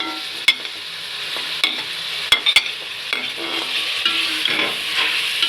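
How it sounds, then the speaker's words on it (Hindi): Ginger garlic paste, tomatoes and green chillies fry in a pan with a steady sizzle, broken by several sharp clinks and scrapes of a spoon stirring against the metal, close and fairly loud, with no talking. "अब इनको भी हमने तकरीबन 2 मिनट भूनना है।"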